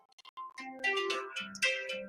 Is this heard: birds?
no